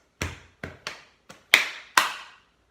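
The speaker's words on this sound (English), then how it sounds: "we are going to do 2 taps on our chest" Body percussion in a classroom music lesson: two taps on the chest, two on the shoulders, then two sharper hand claps, six short hits in an even rhythm played alone.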